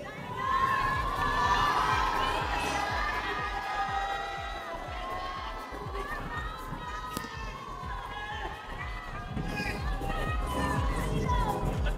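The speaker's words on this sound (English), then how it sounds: "Now let me hear you cheer for your favorite candidates." A large pageant audience cheers and shouts for swimsuit candidates, a sustained crowd roar with high-pitched excited voices throughout.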